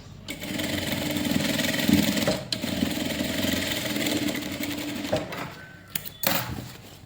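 Sewing machine running steadily while stitching the back piece of a blouse, a close, continuous mechanical whir with brief pauses and restarts near the end.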